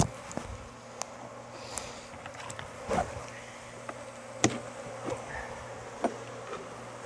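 Bees buzz close up against the microphone in short, intermittent bursts at a beehive, with scattered soft taps and bumps against a quiet background.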